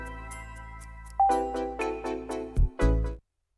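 Wii Shop Channel startup music, a bright, plinky synthesized melody of short staccato notes over a soft bass, starting quietly, then louder, and stopping abruptly after about three seconds.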